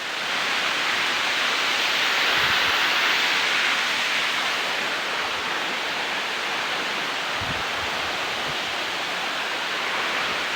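Dampalit Falls on Mount Maria Makiling in Los Baños, Laguna, pours in a steady, dense rush of falling water that fills the whole scene at an even, loud level with no break from start to end.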